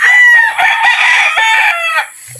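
Young roosters (stags) crowing on a farm: a loud, close, drawn-out cock-a-doodle-doo call lasting about two seconds, with overlapping crows fading at the end.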